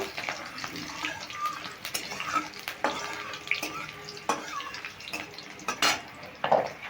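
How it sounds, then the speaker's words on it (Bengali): Slit green chillies and a pinch of asafoetida tempering in hot oil: a soft, continuous sizzle broken by close scrapes and clinks of a utensil against the pan, with a few sharper taps near the end. "আর দিয়ে দেবো একটু সামান্য হিং এবার ফোড়নটা একটু মেরে নেব"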